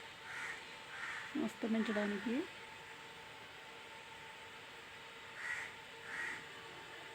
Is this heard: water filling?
no